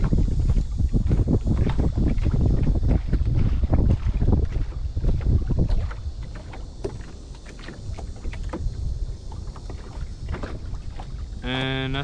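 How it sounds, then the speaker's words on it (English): Wind blowing hard over a small fishing boat on open water, a loud continuous rumble that eases midway, with occasional knocks against the hull. "This wind's gonna be blowing us all around today."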